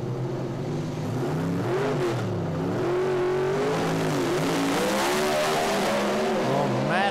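Drag race cars launching down the strip, loud engine roar with pitch sweeping up through repeated gear changes, hard acceleration building in intensity toward the end.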